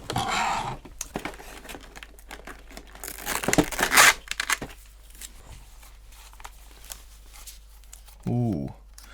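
Plastic and cardboard packaging of a Plantronics RIG 800LX headset being torn and pried open, with crinkling, ripping bursts and a louder tear near the middle, mixed with someone talking.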